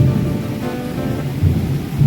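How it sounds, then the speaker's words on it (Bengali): Steady rain pours down while deep thunder rumbles continuously underneath, loud and close, with no voices. "আমাদের মেঘ বৃষ্টি হচ্ছে"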